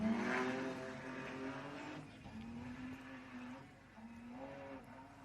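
Race car pulling away at the Pines Enduro, a forest rally event, its engine heard at a distance with rising revs through a couple of gear changes, faint and fading.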